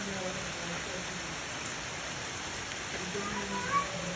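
Steady rain falls in Miandam valley in Swat, a continuous broadband hiss of drops on surfaces that stays even and moderately loud throughout, with no voices.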